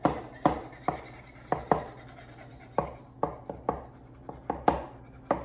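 A knife trimming excess pie dough at the rim of a dish, a series of about a dozen close, sharp taps and cuts against the pan in an uneven rhythm.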